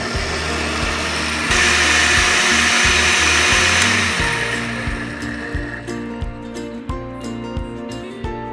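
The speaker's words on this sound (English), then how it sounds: "we are going to use the blender and blend it" A blender runs loudly blending tomato sauce, with a rising whir that then slows, its motor drone continuing with churning liquid and light knocks.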